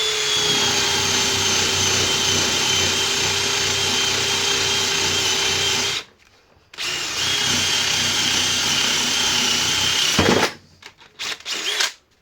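A power drill bores through a router table plate in two long, loud, steady whining runs, with a brief pause between them and a few short bursts at the end. No one speaks.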